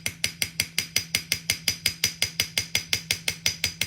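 A ball peen hammer taps an Alchemy metal earring blank taped to a block, roughly five quick metallic strikes per second in an even, steady rhythm, each with a short ringing decay, close and clear.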